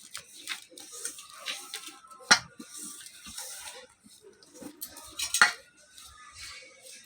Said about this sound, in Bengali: নুনটা ভালো করে ময়দার সাথে মেখে নেব